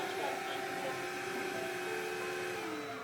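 Samsung Powerbot robot vacuum driving around a room under remote control, giving a steady whirring motor drone with a faint tonal whine that holds unchanging throughout, close and moderately loud, without speech.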